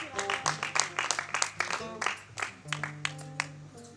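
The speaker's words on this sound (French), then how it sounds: "Est-ce que vous pouvez applaudir pour Ismaël Touré?" Sparse audience clapping at a slam poetry event, a small group giving distinct, rhythmic claps in quick succession, with a sustained tone and some background voices underneath.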